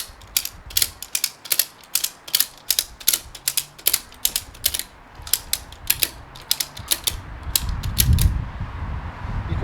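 A ratchet strap is cranked tight on a Harley Davidson motorcycle lift: a close, crisp run of evenly paced ratcheting clicks, followed by a low rumbling shuffle as the clicking stops.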